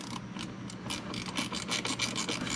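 A hand ratchet works nuts and bolts snug on a jet ski jet pump, giving a close, steady run of gritty clicking and scraping strokes in an even rhythm with no voices.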